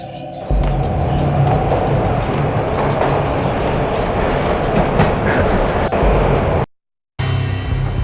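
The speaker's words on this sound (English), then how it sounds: "This was my second train ride of the night." A train ride in the game Max Payne: a loud, steady rumble of rolling rail cars with rhythmic clicking wheels, broken by a brief total silence near the end before the noise resumes.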